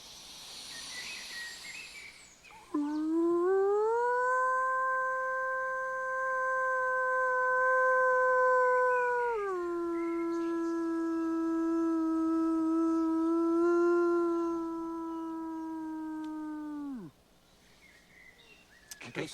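A man imitating a wolf howl, one long sustained tonal cry that holds steady, drops in pitch partway, then carries on before cutting off, loud and close, with softer sounds before and after.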